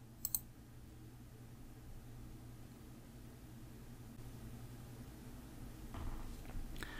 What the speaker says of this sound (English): we'll click debug at the top left.